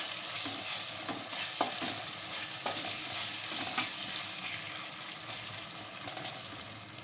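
Ginger garlic paste fries in hot oil in a pan, giving a steady close sizzle with scattered stirring scrapes throughout, no voices.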